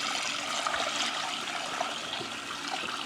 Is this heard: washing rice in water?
yes